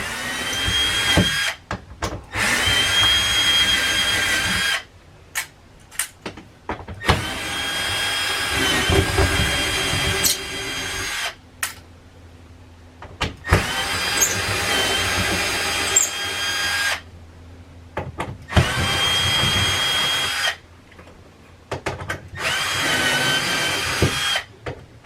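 Cordless power tool driving out the perimeter screws of an RV bed frame, several whirring bursts of a few seconds each separated by quiet gaps, close and steady.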